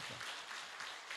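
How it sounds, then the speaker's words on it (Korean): Church congregation at a Sunday service applauding the choir, a brief, fairly soft patter of clapping heard from a distance with a roomy, reverberant quality. "여러분 성가대에서 힘차게 박수 한번 해주길 바랍니다"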